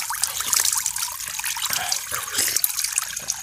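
Mountain spring water trickles and splashes steadily outdoors, a close, continuous broadband flow with small irregular bursts and no talk over it.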